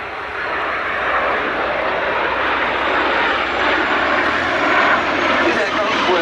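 A BAC Strikemaster jet aircraft makes a topside pass at the Duxford Summer Airshow 2022, a loud continuous broadband engine roar sustained throughout, with a commentator talking over it.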